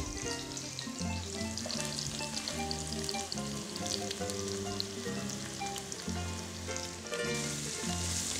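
Carrot and onion frying in plenty of oil for traditional rabbit escabeche, an even soft sizzle running throughout beneath steady melodic background music, with no talking.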